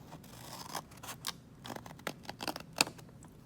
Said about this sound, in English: I'm gonna take my scissors and I'm going to cut